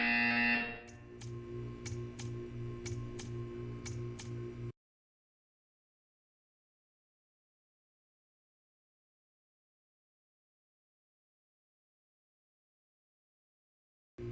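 A buzzer sounds in a quiet room, a steady loud tone for about four seconds with a rapid regular pulsing pattern, then cuts off abruptly into silence.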